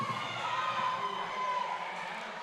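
Boulder crowd roaring through a roller derby bout, a steady wash of cheering and shouting that stays loud and unbroken, with a high whistle-like tone drifting through the middle.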